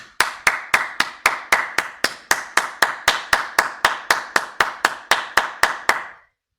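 Steady, evenly spaced hand claps, about twenty-two in a row, close and crisp, with no talk.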